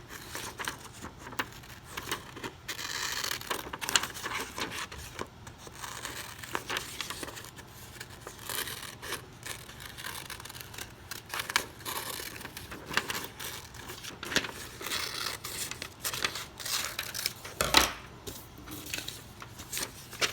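Scissors snip through paper for a superhero selfie craft, making a run of close, fairly quiet crinkling cuts and rustles across the stretch, with no one talking.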